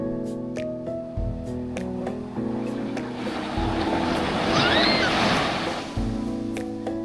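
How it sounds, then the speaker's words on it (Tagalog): Broad, steady surf roar of strong waves rising and falling as they break on a beach at Dingalan, Aurora, on a rainy, overcast day, with a low engine-like hum underneath and scattered clicks; no talking. "Lakas ng alon yan"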